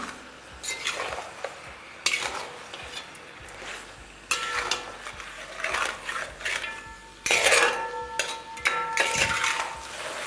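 A spoon stirs black pepper powder and spices through mutton curry in a pan over a low flame, giving close scraping strokes and metal clinks in uneven bursts against a quiet background.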